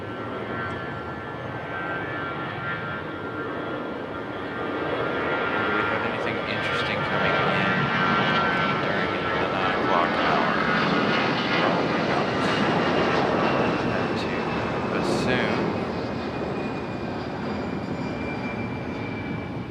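Aircraft departing Raleigh-Durham International Airport on an Iceland flight, a loud sustained engine roar with a rising whine that swells and holds, heard at a distance with people talking underneath.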